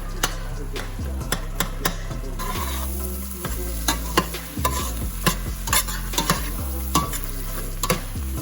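Ground beef fries in a pot with a steady sizzle while it is mashed. Sharp, repeated clacks and scrapes of the utensil against the pot land at an uneven pace, close and fairly loud, with no talking.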